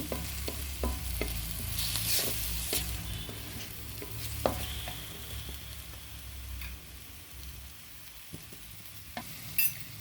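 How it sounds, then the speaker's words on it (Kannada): Onions and green chillies frying in a pan for avarekalu chitranna, a continuous low sizzle under regular clacks and scrapes of a spatula stirring, close by, softening toward the end. "ಈ ಥರ ಈರುಳ್ಳಿ ಹಸಿಮೆಣಸು ಇದ್ರ ಜೊತೆ ಒಂದೆರಡು ನಿಮಿಷ ಫ್ರೈ ಮಾಡಿದ್ರೆ ಚೆನ್ನಾಗಿ ಟೇಸ್ಟ್ ಬರುತ್ತೆ"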